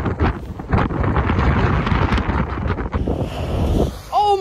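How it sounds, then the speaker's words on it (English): Strong wind at a beach, roaring and buffeting loudly and continuously across the microphone with surf-like rumble underneath, and brief faint whistles near the end. "Windy location."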